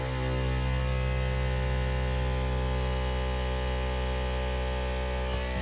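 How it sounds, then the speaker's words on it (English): An air compressor mounted on a 2017 Jeep Wrangler Unlimited Rubicon Hard Rock runs with a steady, loud low hum and buzzing drone that holds unchanged from start to finish. "Switch 4 is the air compressor, so I'll turn it on."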